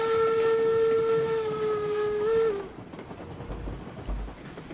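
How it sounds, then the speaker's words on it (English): Train rolling in the RailRoads Online video game, its whistle sounding a long steady tone over a continuous rumble before cutting off, leaving the wagons clattering and rumbling on the track. "Oh, now we're running alongside the train."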